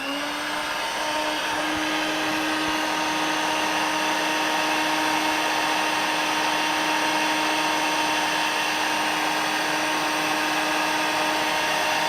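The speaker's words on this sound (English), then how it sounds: "we're going to test it once again as a stick vacuum, and we're going to use the setting number 2 since we're vacuuming on a carpet" Dirt Devil Vibe stick vacuum running on carpet on its second power setting, a steady loud motor whine with a high pitched tonal hum, continuous and unchanging, no voices.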